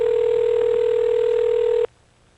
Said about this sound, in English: there is someone else there calling a person whose phone is ringing